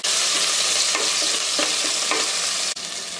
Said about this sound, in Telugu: ఇందులోనే సన్నగా కట్ చేసుకున్న ఒక ఉల్లిపాయ ఈ ఉల్లిపాయలను కొద్దిగా వేయించుకోవాలి